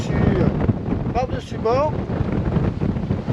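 Wind buffets the microphone aboard a Bavaria 34 Cruiser sailboat in about 15-16 knots of breeze, a steady broadband roar throughout, with a person speaking over it.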